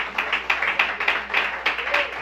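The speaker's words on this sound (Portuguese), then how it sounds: "Dê uma salva de palmas a esse Senhor" A church congregation applauds together in a rhythmic burst of clapping, steady and fairly loud, with a voice faintly underneath.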